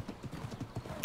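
Horse hooves clip-clopping in the ARK video game, a steady, even rhythm of muffled, close hoofbeats with a brief brighter sound near the end.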